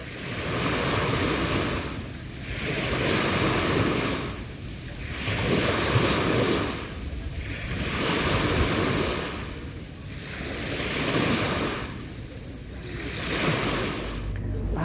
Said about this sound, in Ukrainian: О, хвилі підіймаються.